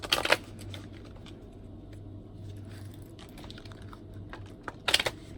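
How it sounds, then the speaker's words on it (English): A mini tarot deck is shuffled close by, with a quick burst of riffling card flicks at the start and another near the end, and soft handling rustle in between. "Shuffle that."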